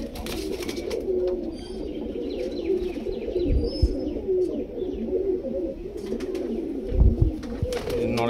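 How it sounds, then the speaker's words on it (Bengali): Pigeons coo steadily at close range, a pair of high- and low-flyer birds in Krishnagar, Nadia, their low throaty calls overlapping with light chirps and occasional handling bumps. "এই যে লাস্ট এক জোড়া পায়রা।"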